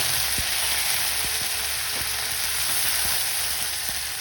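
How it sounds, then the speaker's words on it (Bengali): Mustard seeds fry in hot oil with a dense, continuous hiss and scattered small pops and ticks of spluttering. "সর্ষে যখন ফুটবে তখন আমি কারি পাতা দিয়ে দিব"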